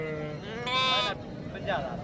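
Sheep bleating at a livestock market in Dera Ghazi Khan, two loud wavering bleats close by, heard over background chatter and crowd noise.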